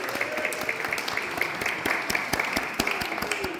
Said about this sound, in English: If you'd like to give them an extra rapturous applause for all the free work they are doing,